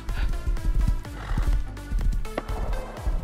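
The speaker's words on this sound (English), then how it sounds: "Whose horse is this?" A horse in the video game Rust neighs and snorts nearby, with clip-clopping hooves beneath, all fairly quiet.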